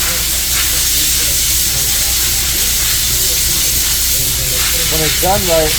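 A nitrogen plastic welder gives off a loud, steady hiss of gas that runs without a break, and a voice comes in briefly near the end.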